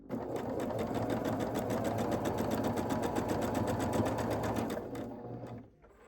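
Sewing machine stitching quilt block fabric, upside down on the easy side, running steadily at close range with a fast even whir for about five seconds before slowing and stopping.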